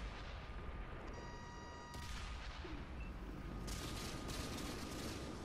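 A tank gun fires in World of Tanks, with a sharp blast cutting in partway through, then a dense rumbling volley of shots and echoes over a low, constant engine hum.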